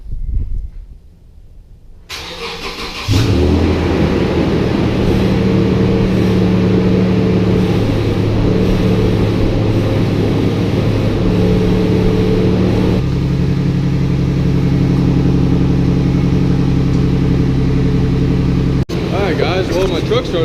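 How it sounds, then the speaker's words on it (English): A 2006 Toyota Tundra truck is cold started. After a short quiet stretch the engine cranks and catches, then settles into a loud, steady warm-up idle close by, with a slight shift in tone partway through. "my truck started up with no problem at all. So I'm gonna let it warm up for a little bit"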